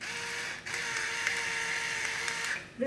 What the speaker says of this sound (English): it really does sound like this pepper mill that I've got